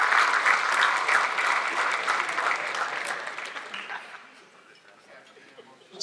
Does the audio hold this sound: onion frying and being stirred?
no